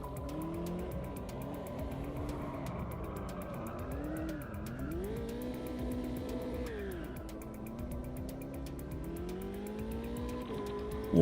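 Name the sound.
sim race car warming up tyres in Automobilista 2 video game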